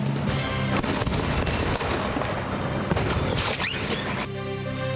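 A house packed with fireworks explodes, a dense, continuous roar of booms, crackling bursts and crashing debris, loud and sustained without any speech.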